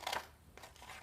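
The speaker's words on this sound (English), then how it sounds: "And what you're gonna do with your scissors is you're gonna cut" Scissors cutting a strip from origami paper, a brief close snip followed by a couple of softer crisp cuts, quiet and alone.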